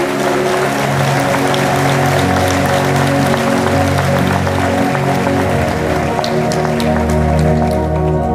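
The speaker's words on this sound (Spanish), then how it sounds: "esos aplausos muy merecidos, por cierto" Audience applause at an engineers' professional registration ceremony, a steady dense wash of clapping that fills the room without pause, loud and sustained throughout.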